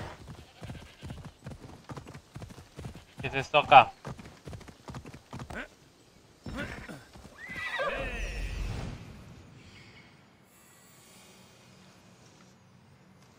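Galloping hoofbeats and a loud neigh from a horse in Assassin's Creed Odyssey, rapid rhythmic clip-clop up close followed by a whinny, with someone speaking over it.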